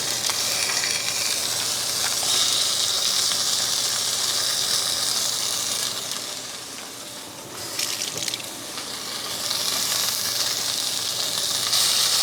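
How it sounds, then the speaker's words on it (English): Ground beef, 85/15, sizzles steadily in a preheated pan with a little oil, a loud continuous hiss and crackle that dips briefly in the middle before returning. "And then the ground beef will go straight into the pan."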